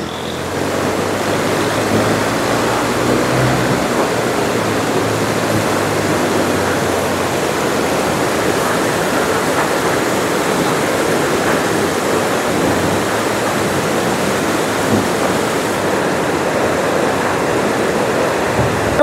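Water rushing steadily near a mountain lake in Kalam, Pakistan, a loud, unbroken broadband roar like a fast stream or small waterfall, close by and constant with no talk over it.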